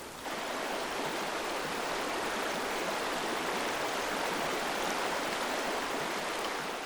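A clear, fast-running stream in winter, its water rushing and splashing in a constant, even hiss that stays steady and fairly close throughout, with no other sounds.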